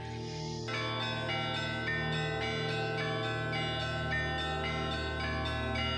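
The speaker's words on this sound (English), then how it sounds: "Bells. A deafening sound flooded the room." Church bells ring out steadily in repeated metallic strikes over a sustained low drone in the video game Demonheart, loud and reverberant with no talking.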